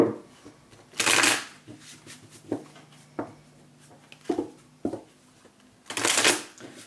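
Tarot cards shuffled by hand up close, several quick papery riffling bursts separated by brief pauses, with no talking.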